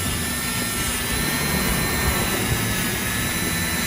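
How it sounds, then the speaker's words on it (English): A Dremel rotary tool polishes the metal shoes of an Aurora slot car in a continuous high, steady whine with a broad hiss, unbroken and close. "Tell you what, the Dremel makes quick work of it."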